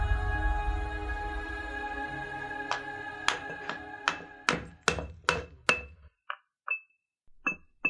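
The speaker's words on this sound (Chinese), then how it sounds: "都要进行这种敲打研磨的工作，这是在为学员磨制绘画用的颜料" Mineral pigments for thangka painting being pounded and ground by hand: a steady scraping grind gives way to a run of sharp, evenly spaced knocks that grow louder and crisper toward the end, close by with no talking.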